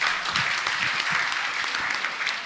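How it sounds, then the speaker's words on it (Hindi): Dense, even applause from a seated audience at a Hindi religious question-and-answer discourse, filling a couple of seconds at moderate volume with no speech over it. "एक बार जोरदार तालियां दे दो।"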